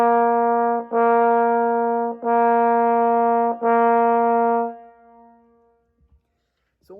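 Three sustained accent-tenuto trombone notes from an all-state concert band étude, each with a slightly weighted front and held at full length, separated by barely any space and played solo, the last fading out.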